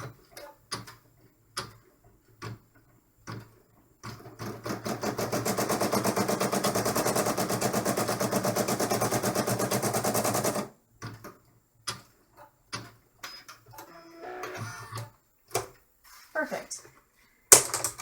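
An embroidery machine stitches an in-the-hoop corset bag on felt, giving a rapid, steady mechanical chatter that runs for about six seconds, bracketed by scattered clicks and handling noises before and after.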